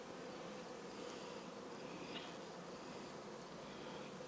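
Honey bees buzzing in a hive during inspection of a newly hived swarm, a soft continuous droning hum with no breaks, faint and steady, without voices.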